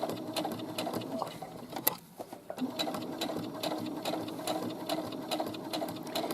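A sewing machine runs steadily at a quicker pace while stitching a straight side seam with a pocket, a close, continuous mechanical whir with fine rapid ticks and a brief slowdown midway.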